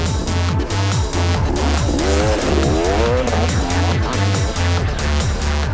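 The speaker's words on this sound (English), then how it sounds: "KX450, plenty of power." KX450 off-road racing motorcycles roar past at Delareyville 200, engines revving and rising in pitch as they pass close by, loud and continuous throughout.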